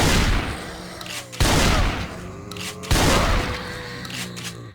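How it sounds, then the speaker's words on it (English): A shotgun fires in the zombie survival video game Project Zomboid, three loud, close booming blasts roughly a second and a half apart, each followed by a decaying rumble, with no talk. "How you miss point blank with a shotgun."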